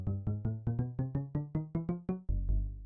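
A Minecraft note block altered by an adjacent shelf sounds a quick series of about eleven resonant, harmonically rich plucked tones, ending in a lower sustained note, with no talk.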